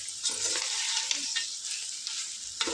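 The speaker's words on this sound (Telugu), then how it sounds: "ఇది ఒక ఫైవ్ మినిట్స్ ఇట్లా ఫ్రై చేసుకుందాం అల్లం వాసన పోయేదాకా ఫ్రై చేసుకుందాం" Goat offal (boti) stir-fried with salt and ginger, a close steady sizzle with intermittent scraping stirs of a spatula against the pan, no voices.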